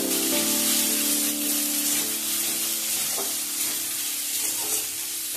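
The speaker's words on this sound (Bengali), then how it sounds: "এখন এই মশলাগুলোকেও আমি ভালোভাবে এর সঙ্গে মিশিয়ে কষতে থাকবো।" Spices sizzling in hot oil while being stirred for a Bengali shol fish dish, a continuous loud frying crackle with scraping stirs and no talk.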